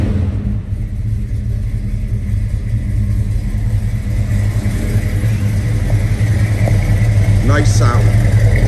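A 1970 Chevrolet Chevelle V8 idles with a deep, steady, loud rumble throughout, close by, with a brief high chirp near the end.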